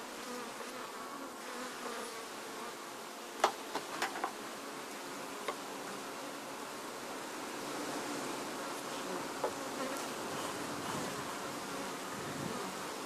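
Honey bee workers in a queenless colony being requeened hum in a dense, steady buzz that fills the whole stretch, with a few sharp clicks and taps near the hive.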